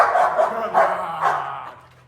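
A dog at a veterinary practice gives three short, fairly loud barks or yelps in quick succession, close by, with the last one trailing off into quiet.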